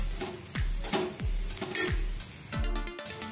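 Spices being stirred into frying onion stuffing for stuffed bitter gourd, with a spoon scraping and clinking against the pan in a few strokes over a soft sizzle, close and fairly quiet.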